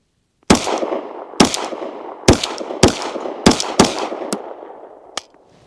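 Six loud unsuppressed 9mm 147 grain pistol shots from an SCT SC frame go off at roughly one-second intervals, each a sharp crack with a reverberant tail, followed by a faint metallic click.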